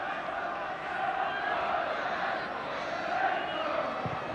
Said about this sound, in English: It's the biggest crowd at Vicarage Road this season.